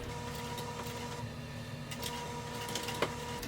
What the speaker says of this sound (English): I'm going to sew right until they're very close